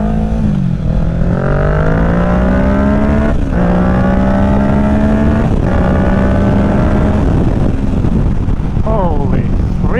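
Riding a 2023 Kawasaki Ninja 650 fitted with a Yoshimura Alpha exhaust: a loud, close engine revs and shifts through rising and falling pitch sweeps, with wind rush underneath and a rider's voice briefly heard.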